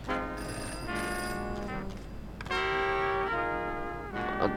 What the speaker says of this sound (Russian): Мэрия звонит.